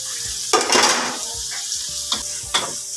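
Garlic and white onion sauté in a hot pan, a constant close sizzle broken by several scraping stirs of a utensil against the pan.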